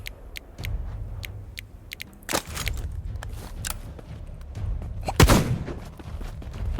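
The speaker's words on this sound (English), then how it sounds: "I need to swap this for the shotgun." Shotgun blasts in the video game Black Skylands, loud sharp reports with a booming tail, one big shot near the middle and another later, amid ticking clicks and game background, no speech.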